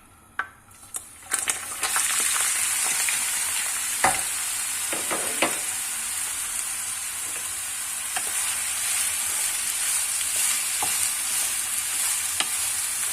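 Onions frying in a pan for a vegetable moussaka-style lasagne: a loud, steady sizzle starts after a few clinks of utensils and is broken by occasional stirring scrapes and taps.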